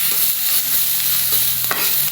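Masala frying in a pan, a dense steady sizzle with a few soft scrapes of a stirring spoon, close and fairly loud with no talking.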